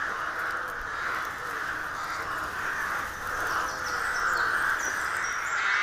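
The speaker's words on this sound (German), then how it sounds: "das laute Gekrächze der Vögel" A rook colony caws noisily, many harsh overlapping calls forming a steady raucous chorus at moderate distance, with no speech.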